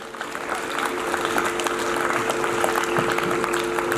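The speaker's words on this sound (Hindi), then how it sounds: "मैं चाहूंगा उनका एक बार जोरदार तालियों से स्वागत किया जाए" Welcoming applause rises from the audience at a school function honouring a director, a steady wash of clapping that holds for several seconds with a faint tonal hum underneath.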